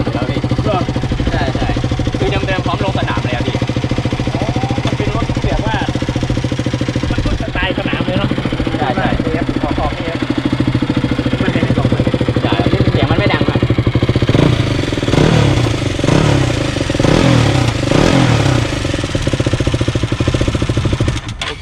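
A KTM RC200 sport motorcycle on its stock exhaust idles and is revved several times, loud and close, with a person talking over the engine throughout.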